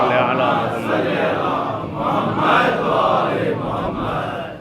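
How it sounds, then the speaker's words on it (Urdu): At a Muharram majlis, a large crowd roars a collective salawat chant in loud, swelling waves of massed voices, close and reverberant, rising and falling across a few seconds. "بآواز بلند نعرے سلوات"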